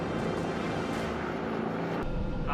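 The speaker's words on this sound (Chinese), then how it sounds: "此时，王方贤牢牢地握住驾驶杆，如果操作不精准，直升机极有可能和地面障碍物发生碰撞。" A PLA WZ-10 attack helicopter flies fast and very low over uneven high-altitude terrain, its engine and rotor making a steady, loud, dense roar throughout.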